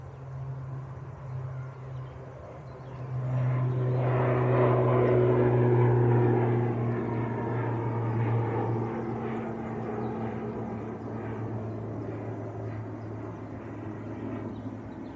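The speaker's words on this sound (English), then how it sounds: "Logan Air on the roll, ATR 72. Going down to Southampton." A Loganair ATR 72 turboprop takes off from Manchester Airport for Southampton, propeller drone and engine tones swelling sharply to a loud peak with clear humming pitches, then easing back to a lower steady roar as it moves away; no talking.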